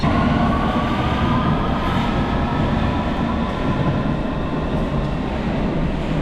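A London Underground Hammersmith & City line train running with heavy electrical arcing, a loud continuous rumbling roar with crackling, broadband noise that holds steady throughout, close by and with no voices.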